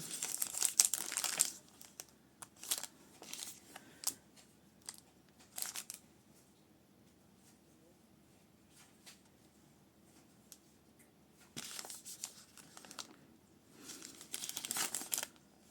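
A crinkly plastic mystery bag package is handled and opened in close, intermittent bursts of crumpling and rustling, with quiet gaps between them and no talk.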